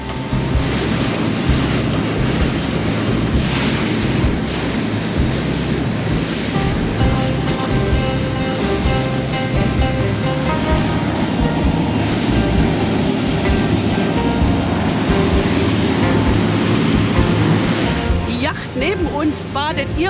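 Waves slosh and splash steadily against the side of a moving boat on the IJsselmeer amid constant wind rush and engine drone, with a voice speaking over it.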